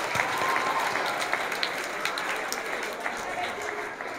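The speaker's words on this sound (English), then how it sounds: "Let's give our clap to our semifinalists." An audience at a school speech event in a McFadden Intermediate setting applauds semifinalists, dense clapping that fills the whole stretch at a steady level with a few sharper claps standing out.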